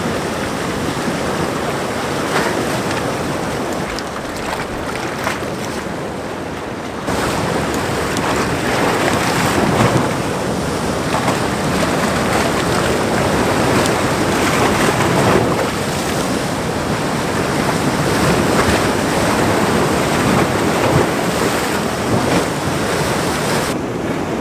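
Ocean waves wash over coastal rocks in a continuous loud roar of surf and churning water, with gusty wind buffeting the microphone throughout, close by and without speech.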